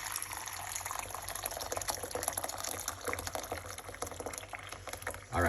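Hot water pours steadily into a cooking pot, a continuous splashing, gurgling stream at close range that runs without pause for several seconds before ending with a louder bump.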